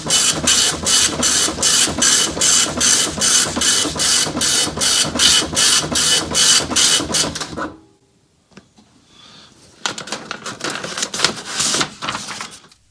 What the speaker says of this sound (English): So I'm going to try printing this one and see what happens.